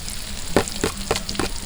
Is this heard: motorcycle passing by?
no